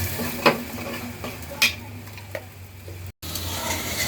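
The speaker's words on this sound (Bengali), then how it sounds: "এখন ভালো করে মশলাটা কষিয়ে নেব।" Spice masala with coriander powder fries in a pan while a spoon scrapes and stirs it, giving a steady close sizzle with a few sharper clinks and one brief dropout near the end.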